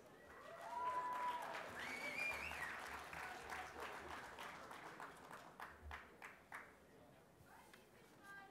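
An audience applauds to welcome a bodybuilder onto stage at a NABBA bodybuilding show, a dense crowd clapping that swells early then gradually thins into scattered claps, with some crowd voices mixed in.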